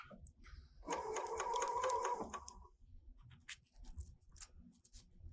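A serger sewing machine stitching a rolled hem, running in a fast mechanical whir for just over a second, then stopping, followed by faint handling clicks and rustles.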